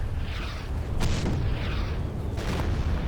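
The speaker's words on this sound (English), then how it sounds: "We've got artillery firing on this MG." Artillery in the Men of War: Assault Squad game pounds a machine-gun position with two booming impacts about a second and a half apart, set against a constant rumble of battle.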